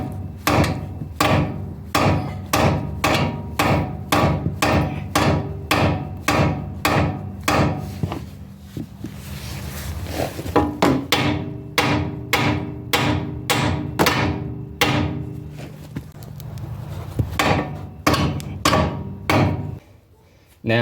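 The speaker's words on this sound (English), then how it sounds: "Let's try a ball peen hammer." Steady, ringing ball peen hammer blows on a car's metal steering parts during tie rod replacement, about two per second, loud and close, with a brief pause before the striking resumes.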